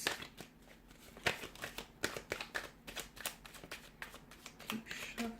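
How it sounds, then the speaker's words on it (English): Tarot cards are shuffled by hand during a reading, giving rapid, close papery riffles and sharp snapping flicks in uneven bursts that run steadily throughout. "Keep shuffling."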